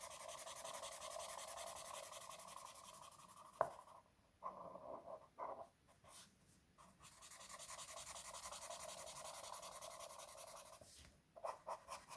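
Coloring a Disney coloring book page by hand: close, steady scratchy rubbing strokes that come in bursts with short pauses between them, with no talking.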